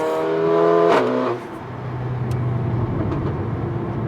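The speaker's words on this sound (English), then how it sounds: "It's definitely a vocal little four-cylinder." A vocal Mercedes four-cylinder car engine revs up to a high, harmonic whine, then drops into a rough, throaty roar, close and loud throughout.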